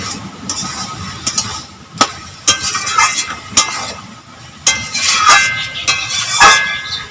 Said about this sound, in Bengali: এই দেখো বন্ধুরা, চাল কুমড়োটা একটু মজে এসছে, একটু নেড়ে দেব।